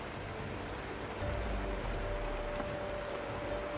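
Heavy rain pouring down steadily, a dense continuous hiss of drops on surfaces throughout, with no talk over it.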